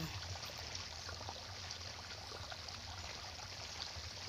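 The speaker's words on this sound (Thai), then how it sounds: "ใส่บัวรดน้ำรดรอบๆต้นเลยพี่น้องให้เปียกทั่วต้น" A watering can pours water around the base of a chili plant, giving a steady soft trickling stream that runs unbroken and fairly quiet throughout.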